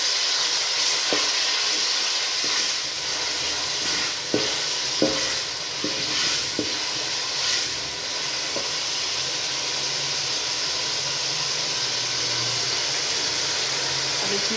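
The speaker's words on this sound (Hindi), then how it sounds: "लहसुन अदरक का पेस्ट हमारा भून चुका है। अब इसमें सब मिर्ची और टमाटर डालते हैं।" Garlic-ginger paste fries with chilies and tomatoes for a Punjabi kadhi pakora, giving a steady close sizzle and hiss throughout, with a few clinks and scrapes of stirring in the first half.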